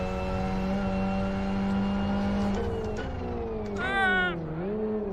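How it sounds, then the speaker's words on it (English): A car engine in the Live For Speed racing game, with gear whine and turbo, holds a steady droning tone that rises and falls with revs, with a brief higher whine near the end and faint voices underneath. "Sounds like someone's actually recorded the car. It's got a gear whine and a turbo"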